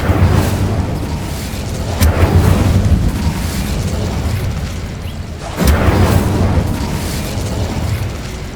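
Incendio fire spell blasts from the Hogwarts Legacy game, two loud booming bursts a few seconds apart, each followed by a roaring, crackling rush that fades under a continuous rumble.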